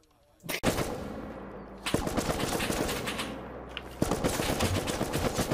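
Rapid automatic gunfire in the video game Rust, loud and close, coming in sustained bursts after a short quiet opening, with faint voices underneath.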